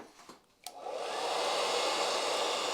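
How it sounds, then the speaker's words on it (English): After a click, a hair dryer switches on and blows with a steady, loud rushing whir while styling a wig. "pushing it back with my hairdryer"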